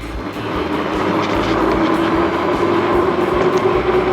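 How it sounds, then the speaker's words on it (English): An AKEZ Jaguar 1500W e-bike motor pulls up a hill on throttle alone, a loud steady whine with rushing wind noise that holds constant throughout. "let's see how it does on a hill test, just on throttle alone"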